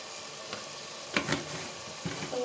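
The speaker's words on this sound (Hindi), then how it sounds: "मसाले को हम कम से कम 5 मिनट तक भुन जाने देंगे" Spices such as red chili and coriander powder roast in a pan for Punjabi masala matar pulao, giving a close, steady sizzle broken by a few brief stirring scrapes.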